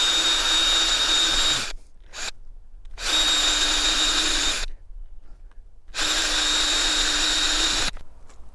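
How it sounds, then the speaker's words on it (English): A power drill with a steel bit bores pilot holes into a Fiamma door frame, running loud and close in three sustained bursts separated by brief pauses, with no talking. "So I'm just going to drill the 3 pilot holes"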